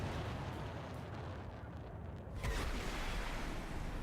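A missile strike in the War Thunder tank game lands as a sudden deep boom over a steady rumble of battle noise, then leaves a sustained roaring wash behind it.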